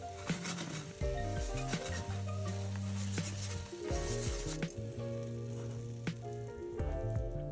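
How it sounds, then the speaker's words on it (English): Tofu toasting in teriyaki sauce in a hot pan gives a steady sizzle and frying crackle that runs the whole time beneath louder background music. "Return the tofu to the pan and toast to coat evenly in the sauce."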